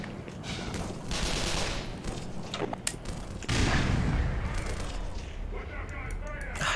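Gunfire and explosions from the video game Black Mesa, a dense run of loud shots with a heavy blast partway through, continuing steadily over constant game noise.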